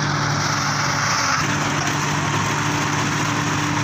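A tractor hauling a trolley reverses at a farm where maize feed is unloaded, its engine idling with a steady low hum and constant mechanical drone, close and continuous throughout.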